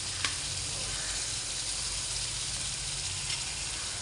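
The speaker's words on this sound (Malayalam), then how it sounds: "അതിന് ഉള്ളി, ഇഞ്ചി, പച്ചമുളകും കൂടെ ഇടുകയാണ്." Onion, ginger and green chili frying in hot oil, a steady loud sizzle and hiss running the whole time with a faint clink or two of a utensil.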